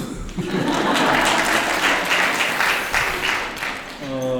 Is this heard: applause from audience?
yes